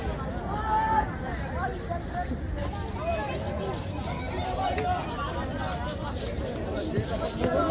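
Dense chatter of a large crowd of people, continuous overlapping voices filling the space with steady hubbub throughout.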